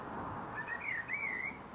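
A blackbird sings from a neighbouring rooftop in a residential garden: a faint, clear whistled phrase rising and wavering briefly over a low, steady hum of distant traffic.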